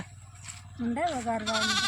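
A sheep bleats loudly with a wavering, drawn-out call, following quieter background voices.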